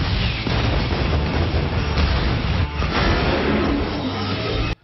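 Heavy firing from the USS Missouri's 16-inch naval guns, a dense, loud roaring blast that fills the whole stretch and cuts off abruptly at the end.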